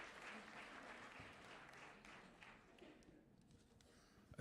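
An audience at a Ukrainian women's congress in Kyiv applauds young people, a soft, fairly distant patter of clapping that thins out and fades toward the end.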